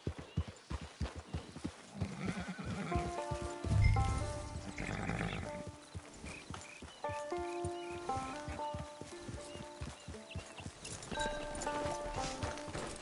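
A galloping video game horse drums out quick rhythmic hoofbeats, with a brief whinny partway through, under a continuous orchestral game score.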